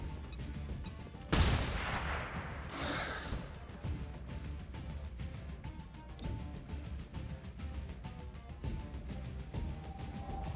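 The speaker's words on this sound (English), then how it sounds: "Throwing a flashbang." A flashbang grenade goes off in the video game XCOM: Chimera Squad, a sharp loud burst followed by a fading hissing ring, with game sounds continuing underneath.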